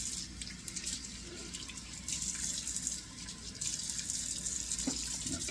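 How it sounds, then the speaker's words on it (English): Cold water runs and splashes from a bathroom tap into a sink during a wet shave, a steady close rushing stream with small splashing bursts, no talking. "now let's put in a couple of splashes of cold water so we can use the alum"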